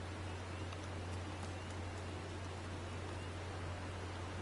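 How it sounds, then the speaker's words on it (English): Steady, even rain hiss in Final Fantasy XIV, a broad continuous wash of falling rain with a low constant hum beneath, alone and unchanging throughout. "Ooh, it's raining."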